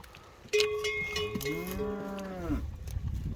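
A cow of the Berrenda breed lets out a long, drawn-out moo close by, rising then falling, with another lower bovine call following.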